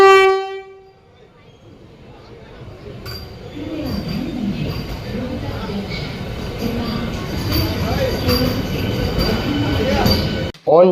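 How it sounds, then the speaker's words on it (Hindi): Vande Bharat Express at a New Delhi railway station platform: a loud, steady train horn opens, then a busy rumble of the train and station fills the rest, with a sharp burst at the very end. "ऑन टाइम ट्रेन प्लेटफॉर्म पे लग चुकी है"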